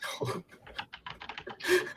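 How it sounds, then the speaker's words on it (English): Rapid typing on a computer keyboard, a quick irregular patter of clicks close by with no speech, fairly quiet. "I can hear her typing."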